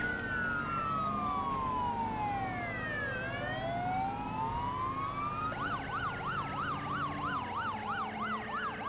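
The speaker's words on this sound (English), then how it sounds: "Just want to break the monotony of that one siren being used on all 4 cars." Police car sirens in the GTA 5 video game, with an Australian highway patrol VE slicktop, loud and continuous: two wailing sweeps overlap, then a second unit switches to a fast yelp pattern.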